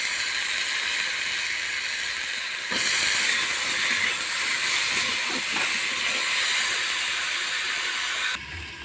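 Cut potatoes go into a hot pan over fried onion and chopped tomato, setting off a loud, steady sizzling hiss that swells as they drop in and carries on close up with no talking.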